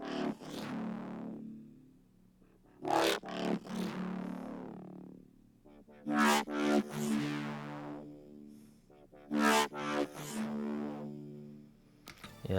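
Growl Smack preset from the Serum Acid 2 bank sounds as a gritty, distorted synth growl in a minimal trap-style beat, playing repeated single-note stabs roughly every three seconds with harmonic-rich smears that decay between hits.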